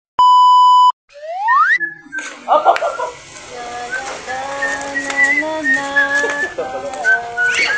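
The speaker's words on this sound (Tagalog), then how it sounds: "Pasipol-sipol ka dyan, ha?" A person whistles a wandering melody in a home setting, following a short electronic beep at the start; the whistled notes are clear and continuous with some background noise.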